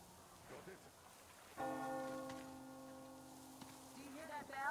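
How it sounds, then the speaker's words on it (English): A bell in the game Metro Exodus rings out with a sudden sustained, resonant tone, its overtones hanging and slowly decaying over soft rain-like background noise. "Do you hear that bell?"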